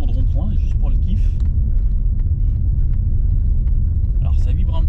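A car drives over real cobblestones, a loud, steady low rumble filling the cabin continuously, with faint rattles and clicks scattered on top and people talking through it.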